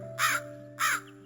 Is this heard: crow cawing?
yes